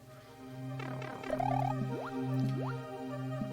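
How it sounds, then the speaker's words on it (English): Water pipeline sounds in a Mario World video game level: soft, bubbly drips and rising boing-like plops repeat over a sustained low tonal hum, fairly quiet throughout. "Yes, the soothing sounds of a pipeline."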